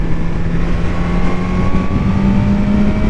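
A 1000cc motorcycle drones on the throttle, a loud, close, steady engine note rising slightly in pitch over a few seconds, with no talk.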